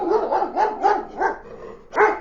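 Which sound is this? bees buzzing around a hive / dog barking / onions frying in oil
dog barking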